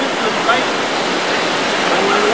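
Taytay Falls waterfall in Majayjay roars as a steady, loud, dense wash of rushing water filling the whole clip without pause.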